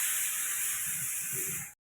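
Steady, loud steam hissing from a pressure cooker cooking chana dal, a continuous high-pitched spray that cuts off abruptly at the end.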